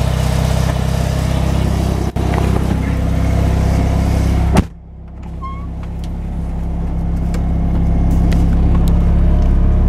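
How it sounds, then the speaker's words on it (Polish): A car engine runs steadily with a low, dense drone, a sharp thump cuts in midway, then the engine settles into a quieter, smoother idle that slowly builds again. "No ale samochód odpalił."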